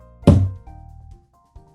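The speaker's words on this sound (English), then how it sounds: "a medium knock" A single medium knock on a door, a solid thud of moderate weight that fades quickly, followed by faint low rumbling and a soft tap.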